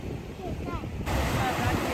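Strong wind buffets the microphone over rolling sea waves at a beach in Goa, a steady loud roar of surf and gusts with a brief voice at the start.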